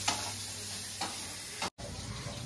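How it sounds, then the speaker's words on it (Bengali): Paneer cubes sizzle in oil in a pan in a home kitchen, fried to go into aloo dum, with a steady hiss broken by scraping stirs about once a second and a brief dropout. "মা পনিরটা ভাজছে আলুর দমের মধ্যে পনিরটা দেবে বলে"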